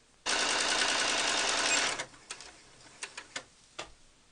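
A sewing machine runs a steady rapid stitch for about two seconds along the inside inseam of 18-inch doll leggings, loud and close, then stops, followed by a few sharp clicks and taps.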